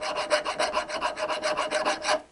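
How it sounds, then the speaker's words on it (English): A hand file rasps across the end of a kickstart lever on a Triumph T120R during an engine rebuild, about a dozen quick, even back-and-forth strokes close up before stopping. "I'm just going to dress the end of my kickstart lever up a bit."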